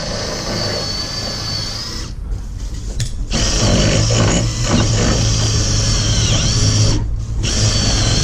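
A power drill whirs steadily and loudly while drilling a 3/8 starter hole during a front porch rebuild, revving higher partway through, with two brief pauses where the motor stops before starting again.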